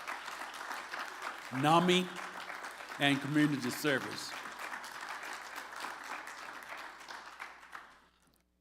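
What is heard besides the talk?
audience applause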